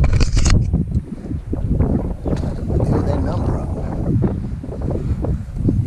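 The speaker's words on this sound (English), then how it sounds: "So excuse all of the wind and all this good stuff, but it is a windy day" Heavy wind buffeting the microphone at a lakeside while fishing, a constant low rumbling roar with gusty surges throughout.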